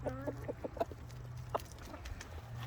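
Backyard chickens cluck close by in short clustered calls, a quick run of clucks followed by scattered single ones, moderately loud over a low steady hum.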